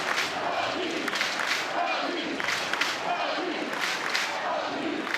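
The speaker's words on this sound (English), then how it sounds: "Crowd was starting to come to their feet and make a little noise" Crowd at an Oklahoma vs. Alabama NCAA softball super regional game, a steady stadium murmur with scattered cheers and claps rising in short swells beneath continuous broadcast commentary.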